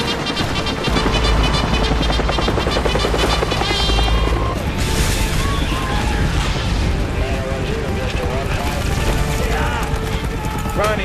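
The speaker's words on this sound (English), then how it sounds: "The helicopter is what we need." A loud, continuous helicopter roar with a rhythmic mechanical thrum, dense and close throughout with other clattering noise mixed in.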